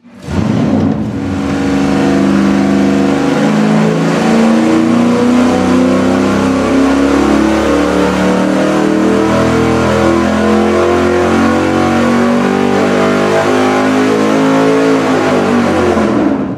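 A V8 engine fires up on an engine dyno and revs hard through a long, steady loud pull, its deep roar rising and holding with no talk over it.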